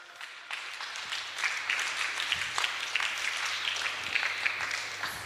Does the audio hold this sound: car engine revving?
no